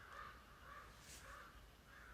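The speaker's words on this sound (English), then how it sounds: "The birds." Crows caw in a steady repeated rhythm, four or five calls at a distance, faint against a loud background hiss.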